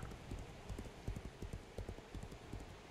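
Horse hooves clip-clopping in the video game Legends of Aria, a quick steady run of distinct hoof strikes at low volume, fairly close, with no talk over them.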